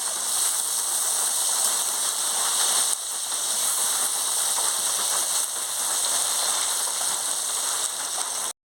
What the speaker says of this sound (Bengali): এবার আমি পটলটাকে লাল লাল করে হালকা লাল লাল করে ভেজে নিচ্ছি